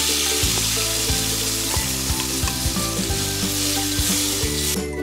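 Beef steak sizzles and fries loudly in a pan as gravy is added after brandy, a steady crackling hiss with stirring scrapes and clinks of utensils throughout, no talking.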